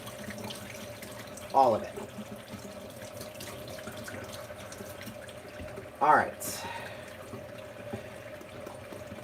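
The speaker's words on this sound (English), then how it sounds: "I'm just going to run it under the faucet and still swirl" A faucet runs steadily as a makeup brush is rinsed under it, a constant hiss of water with a couple of louder splashing bursts, while a person speaks briefly.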